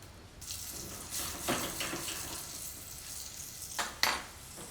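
Red peppers cooking down in a pan, a quiet bubbling sizzle with occasional clinks and scrapes of a utensil against the metal, fairly close and without speech.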